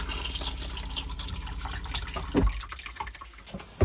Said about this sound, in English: When you want to flush a toilet,